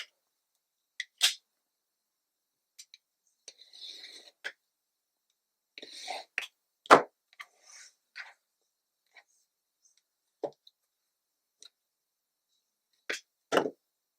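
A quilt block being trimmed with a ruler and cutter while its edges are squared up, making sparse soft scrapes, slides and taps among long quiet gaps.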